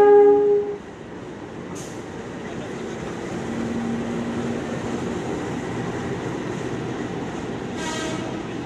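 A train rolls into Jatinegara station, with a steady broadband rumble of railcars passing close and loud, a brief horn-like burst early and another near the end.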